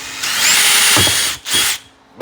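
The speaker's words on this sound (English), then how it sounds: "So what I'm gonna do is drill right here." A power drill bores through a plastic fender flare on a 2012-2017 Can-Am Maverick side-by-side, a loud steady whine for over a second, a brief pause, then a second short burst close to the mic.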